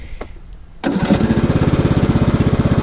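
A ride-on lawn mower's engine starts abruptly after a few faint clicks, then runs with a loud, steady, throbbing chug close by.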